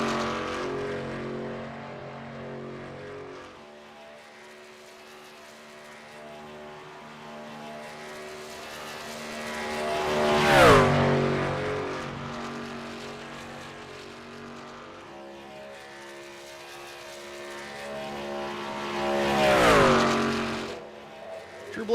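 A race truck engine roars through a qualifying lap at Michigan in a racing video game, a steady high drone that swells and shifts pitch sharply twice as the truck passes, with faint talk underneath.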